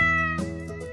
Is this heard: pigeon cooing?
no